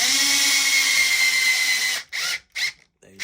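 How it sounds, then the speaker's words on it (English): A power driver spins a screw into the rear differential of a Mugen MBX8R 1/8 nitro RC buggy, whirring steadily for two seconds, then giving several short bursts as the screw seats. "So we're gonna get this screw in now, and we're gonna get this second screw set."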